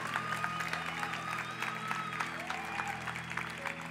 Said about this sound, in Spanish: un aplauso a la juventud, al Ministerio de Jóvenes